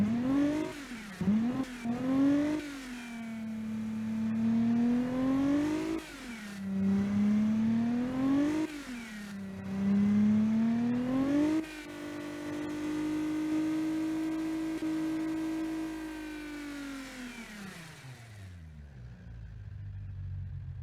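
A car engine revs hard at high RPM, climbing and falling in several loud surges, then holds a steady high-pitched drone for several seconds before dropping back and cutting off near the end.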